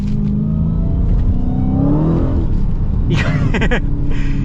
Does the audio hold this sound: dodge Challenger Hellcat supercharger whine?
yes